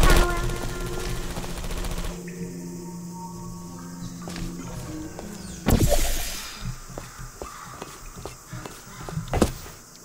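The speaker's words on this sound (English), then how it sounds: "Did not know there would be turrets up here." Portal 2 turrets open fire in a player-built test chamber, giving a sudden loud burst of rapid gunfire midway and a second sharp volley near the end, with clanks and footsteps in between.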